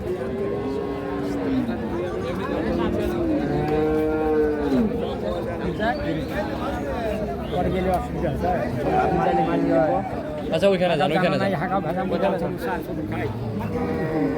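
Holstein Friesian cows moo repeatedly in long, drawn-out calls over a steady murmur of people talking and bargaining nearby at a livestock market in Chittagong.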